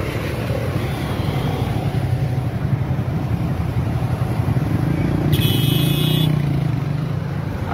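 Motorcycle engines rumble steadily along a bike lane, a continuous low drone that swells slightly as one passes near the end, with a brief high-pitched beep or horn cutting in.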